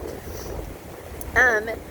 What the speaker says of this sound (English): it looks like the weather is getting a little windy